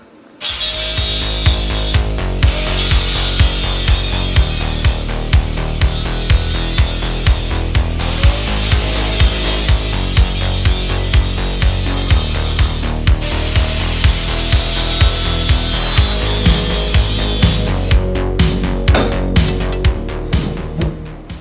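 A power saw cuts through steel roll cage tubing inside a Subaru Impreza being built for over 1000 hp. The cutting is loud and continuous, with a steady rhythmic pulsing, and no one speaks.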